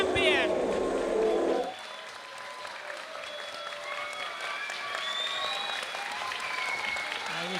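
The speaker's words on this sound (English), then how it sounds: "And you can hear the crowd" A large crowd at a beetleweight combat robot tournament applauds and cheers loudly at first, then the roar drops to a sustained, distant wash of clapping and whistles.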